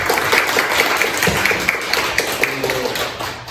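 A church congregation claps together during a Sunday service, a dense steady patter of hands held at an even level through the whole stretch, with faint murmuring mixed in.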